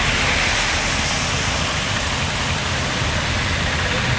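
Heavy continuous rain during a storm in Tamil Nadu, a dense steady roar of falling water that stays loud and unbroken throughout with no voices.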